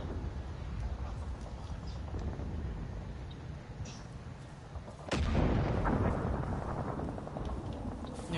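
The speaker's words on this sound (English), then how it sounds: "Who is shooting?" Gunfire during a Far Cry 5 Hour of Darkness DLC firefight, distant booming shots and blasts over a low rumbling background, with a sharp louder crack midway followed by sustained heavier noise.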